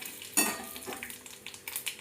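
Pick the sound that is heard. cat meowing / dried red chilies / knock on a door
dried red chilies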